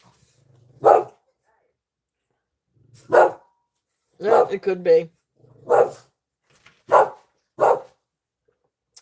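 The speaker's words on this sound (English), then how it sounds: "the dogs are gonna start barking" Dogs bark in short, separate bursts, about seven loud woofs spread unevenly across the stretch, with a person speaking briefly among them.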